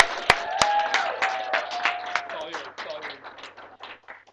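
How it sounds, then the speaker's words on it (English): A modest round of applause greets a speaker being introduced, light scattered clapping that starts with a couple of sharp claps, swells briefly and then thins out to a few last hands. "Please, now, a great round of applause for Mr. Coder."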